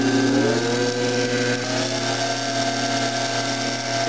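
A permanent magnet motor driven as a pedal-powered bicycle generator spins at around 3,400 RPM, giving a steady, loud mechanical whine and hum with rising tones as it speeds up, continuous throughout.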